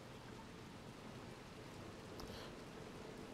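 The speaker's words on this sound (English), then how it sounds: "the way the rain's coming down" Steady rain pouring in the dark city of the video game Little Nightmares 2, a dense, even wash of noise throughout with no talk over it.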